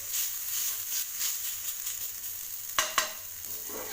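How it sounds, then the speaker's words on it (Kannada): Fenugreek leaves sauté in a pan with a steady sizzle and frying hiss, plus a couple of sharp stirring clanks near the end. "ಸ್ವಲ್ಪ ಕಹಿ ಅಂಶ ಹೋಗೋವರೆಗೂ ಸ್ವಲ್ಪ ಹಾಗೆ ಬಾಡಿಸ್ಕೊತೀವಿ"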